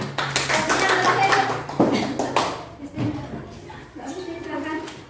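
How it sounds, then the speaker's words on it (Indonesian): A group in a teacher-training classroom breaks into loud, scattered hand clapping for a presenting team, the applause fading and returning in bursts while voices talk over it. "Beri tepuk tangan untuk kelompoknya Mbak Naila."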